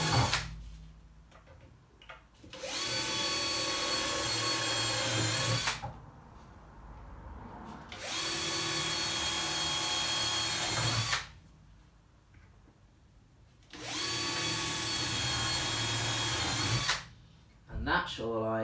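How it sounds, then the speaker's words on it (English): A power drill bores holes into a wooden poker table top in three long, loud whirring bursts separated by short pauses, with a brief voice near the start. "it's just a matter of drilling 5 holes, the 4 that go round and the 1 in the middle"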